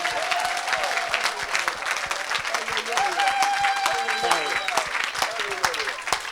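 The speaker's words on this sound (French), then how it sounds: "Quelqu'un acclame le Seigneur." A church congregation applauding the Lord at an evangelistic service, sustained loud clapping from a crowd that fills the room, with voices and shouts mixed in throughout.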